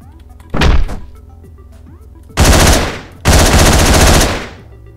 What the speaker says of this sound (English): I think they want me to use this gun.